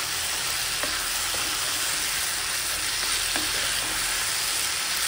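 Dhaba-style chicken sizzles and fries in a hot pan on a home stove, with a steady, loud crackle and a few scraping stirs of a spatula, no voices.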